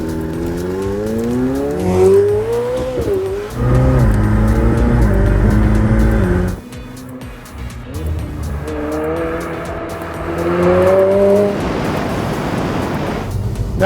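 A 2022 McLaren 765LT Spider supercar on the move, its engine note rising and falling through several gear pulls with rushing wind and road noise, loud and close, no talking.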